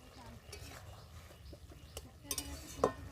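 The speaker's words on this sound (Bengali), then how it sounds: "সবজি ও ডাঁটাগুলোকে একটু ভালো করে নাড়াচাড়া করে" A spatula stirs pumpkin greens and stalks in a pan with soft scraping and a faint sizzle, ending in a sharper clink of metal against the pan, all fairly quiet.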